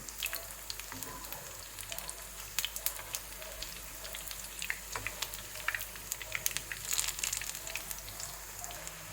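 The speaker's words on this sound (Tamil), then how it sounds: "இப்போ இது இந்த 2 சைடும் நமக்கு மறைச்சி போட்டு ஃப்ரை பண்ணி எடுக்கலாம்." Onion cutlets fry softly in a pan. The faint crackle comes with scattered small pops that grow busier toward the end. No voices are heard.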